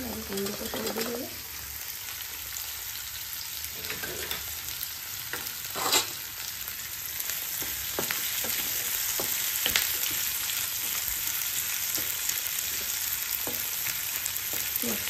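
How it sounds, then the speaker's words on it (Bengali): Sliced onion and green chilli fry in oil with a continuous, moderately loud sizzle. Now and then a utensil knocks or scrapes as the pan is stirred. "পেঁয়াজ আর কাঁচা লঙ্কা কাঁচাটা, ওটা লাল লাল করে একটুখানি আমি ভেজে নেব।"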